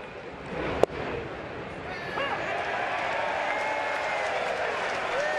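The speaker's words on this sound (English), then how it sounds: "And an automatic cheer goes up." Crowd at a Mets versus Phillies baseball game in Philadelphia sends up a steady cheer and applause that swells and holds, preceded by a single sharp crack; commentary talk runs over it.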